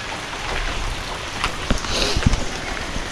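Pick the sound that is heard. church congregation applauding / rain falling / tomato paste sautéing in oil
rain falling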